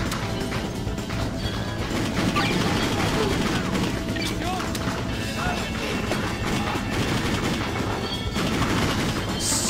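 Gunfire in the video game Just Cause: dense, continuous bursts of shots and crashing impacts, loud and close throughout, with speech mixed in.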